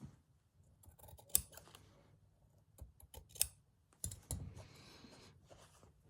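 Fabric being trimmed with scissors while a stitched moodboard is assembled, a few crisp close snips separated by quiet pauses and light handling noise.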